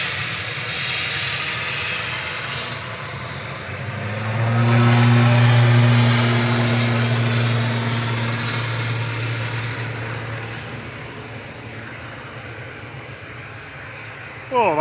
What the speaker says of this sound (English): Oh, that was some noisy prop wash.